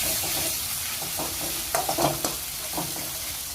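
Masala with turmeric and garam masala being stirred in a frying pan for bottle gourd kofta curry: a steady close sizzle of oil with a few louder scraping stirs near the middle, no talk.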